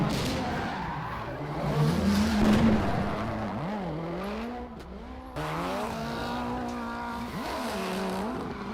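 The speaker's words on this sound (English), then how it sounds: "Imagine that sound though, that car in that space. That would be deafeningly loud." A Ken Block Gymkhana rally car engine revs and wails, shifting pitch as tires skid and screech, loud and close, with no talking.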